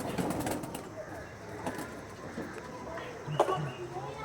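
Pigeons coo softly amid a busy, noisy loft, with faint rustling and scattered bird sounds under background voices.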